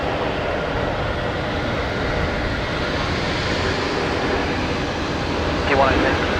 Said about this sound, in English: I think this is Air New Zealand coming in here on runway 19 left